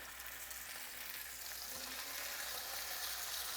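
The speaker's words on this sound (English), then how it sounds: "Add a little olive oil. Drop in our first snapper." Snapper fillet sizzling in hot olive oil in a stovetop pan, a faint, steady frying hiss throughout with a brief soft disturbance partway through as the fish settles in.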